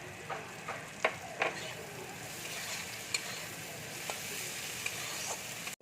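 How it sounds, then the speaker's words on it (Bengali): Fried green peas go into a sizzling pan of egg curry base with turmeric and are stirred, a soft steady frying hiss broken by several sharp scrapes and knocks of the spoon. "এবার আমি ভাজা মটরশুঁটিটা দিয়ে দিচ্ছি।"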